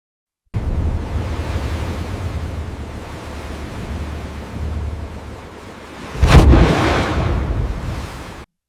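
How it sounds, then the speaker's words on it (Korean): A naval explosion effect from a wartime warship convoy escorting a battleship: steady rushing sea-and-wind noise, then one loud low boom at about six seconds that rolls off into rumbling wash. "항해 도중 갑자기 거대한 폭발음이 함대를 뒤흔들었습니다"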